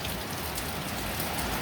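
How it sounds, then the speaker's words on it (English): Heavy rain pours down outside in a steady, dense wash of drops that holds level and unbroken throughout, with no voices over it. "it is raining outside. Yeah, it's just pouring here."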